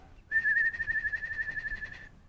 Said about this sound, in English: the most common noise that they make is called a trill or a whinny